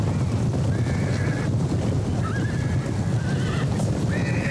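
Cavalry horses in Total War: Attila whinny and neigh several times over a dense, loud battle din of rumbling hooves and noise, the calls rising clearly above the constant roar.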